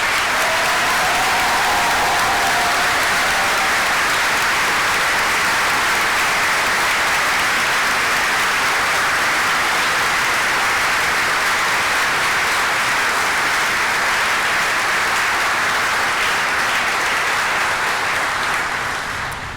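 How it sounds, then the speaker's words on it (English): Sustained, dense applause from a large audience at a university graduation ceremony, rolling on evenly for nearly twenty seconds before beginning to taper at the very end. "I think we should give all of our graduates today one final round of applause."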